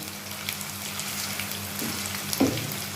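Finely chopped onions frying in oil in a home kitchen until golden, a steady soft sizzle and crackle close by with a brief stir or clink near the end, no talking.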